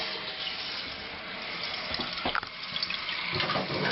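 Water rushes steadily into a toilet tank once the supply is opened during a fresh install, a continuous close hiss with small splashy bubbling bursts.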